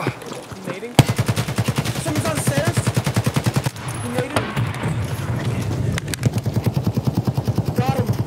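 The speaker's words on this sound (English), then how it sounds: "Oh god, you need to get up and shoot him." Rapid automatic gunfire during a video game shootout, with long bursts of evenly spaced shots that are loud and close, broken by brief pauses and overlapping excited talk from players.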